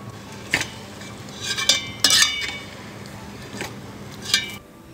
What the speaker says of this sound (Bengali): ঢাকনাটা খুলে এটাকে আমি ভালো করে নেড়ে দেব।